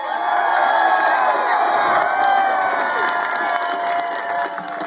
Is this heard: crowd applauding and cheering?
yes